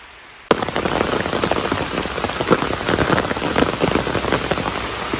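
Steady rain pours down in a rural village, a dense continuous patter of drops on surfaces that starts abruptly after a brief quiet moment and stays loud throughout.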